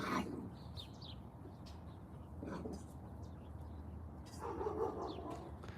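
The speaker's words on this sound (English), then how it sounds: "you can hear the big barking dog is my neighbor's dog." A big dog barks at a fence in a neighbouring yard, three faint, distant bursts spaced a couple of seconds apart, with a bird chirping softly in the background.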